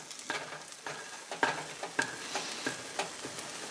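A Spanish omelette fries in a pan on a stove, a quiet steady sizzle broken by a series of irregular scraping and stirring taps from a utensil against the pan.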